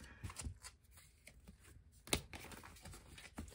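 Cards are shuffled in uneven bursts, with soft riffles, slaps and a sharp snap partway through, close and quiet with no talking.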